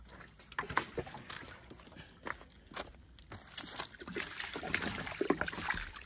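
Water splashes and sloshes in uneven bursts while plants are watered outdoors, fairly faint and close, with scattered spatters and trickles.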